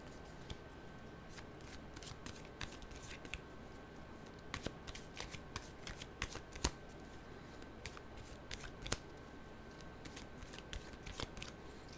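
A deck of animal cards shuffled continuously for several seconds, a dense papery riffling with scattered sharp clicks and snaps, close and fairly quiet, with no talking.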